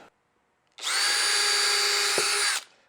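A power drill whirs steadily for about two seconds boring screw holes in wood, loud and close, starting and stopping abruptly, with no talking.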